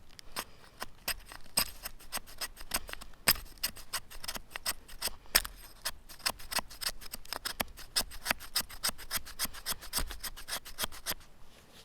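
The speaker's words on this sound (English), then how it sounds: "Just want to scrape off some pitch with fuzzies." The spine of a sharp L.T. Wright GNS knife scrapes pitch off wood into fuzzies in quick, rhythmic rasping strokes, close and crisp, with no talking.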